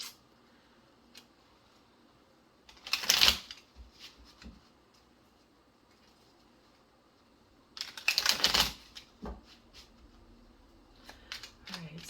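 Tarot cards are shuffled in two separate riffling bursts a few seconds apart, with quiet gaps between them and a small click or two in the background.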